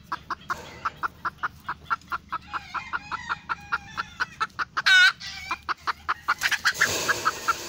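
F1 jungle fowl chickens clucking and fussing in a steady run of short, evenly spaced calls, close and fairly clear, with a brief louder squawk midway and rougher flapping noise near the end.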